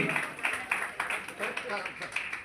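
Clapping at a foundation stone unveiling for a biogas plant, led by a minister: scattered, modest applause in rhythmic bursts, mixed with a voice speaking over a public address.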